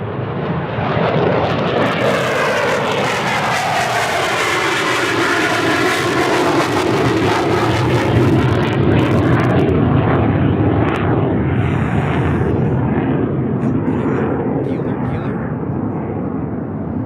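A loud, continuous roar of an airplane at Tucson International Airport, its engine noise sustained and close with a sweeping pitch, while people talk over it.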